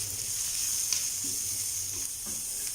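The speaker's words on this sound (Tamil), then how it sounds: "இதெல்லாம் சேர்த்து நல்லா வதக்கிக்கோங்க." Chopped cauliflower, beans, cabbage and carrot sauté in a pan, giving a brief, quiet, steady sizzle with a few light stirring scrapes and no talk.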